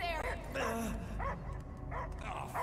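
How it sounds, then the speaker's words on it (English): A dog barks and yips in the sci-fi action game Marvel's Guardians of the Galaxy, several short barks heard under and between steady character dialogue. "I hear only barking."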